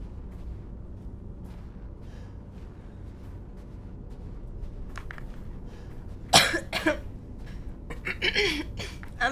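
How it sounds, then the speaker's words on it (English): After quiet background hum, a loud burst of harsh coughs breaks out, followed by a few more rough coughing fits close by. "I'm sorry that I'm coughing so much."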